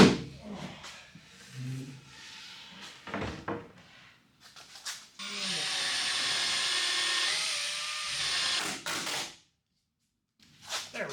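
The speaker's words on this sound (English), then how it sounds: "I'm just going to drill and screw it in" Power drill driving screws into the wooden fence of a table-saw crosscut sled, a sustained whirring burst of several seconds after some scattered handling knocks and clatter, with a short final run near the end.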